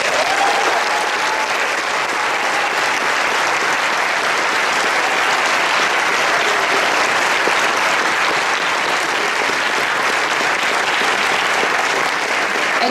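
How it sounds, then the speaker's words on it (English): A crowd at a National Honor Society induction ceremony gives inductees long, steady, dense applause that stays loud and even throughout. "Would you please give them a round of applause?"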